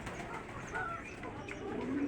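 Giribaz koka pigeons, red and black, coo and stir softly in their loft while sitting with their chicks. The murmuring is low and steady, with a few faint flutters close by.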